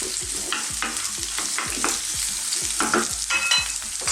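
Sliced red onions hit a hot pan and sizzle steadily, with rhythmic stirring strokes scraping the pan about twice a second, close and continuous.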